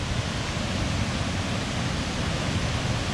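Salto de la India waterfall near San Vicente de Chucurí, Colombia, roaring as a dense, constant broadband rush of falling water, loud and close, with no voices over it.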